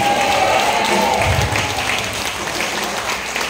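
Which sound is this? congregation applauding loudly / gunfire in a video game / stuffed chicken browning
congregation applauding loudly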